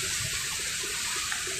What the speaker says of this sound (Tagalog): As you can see the Naampo din fountain.